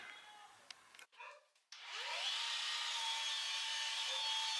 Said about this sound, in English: this is the polisher that I use, the Flex, and it has a 4000 pad on it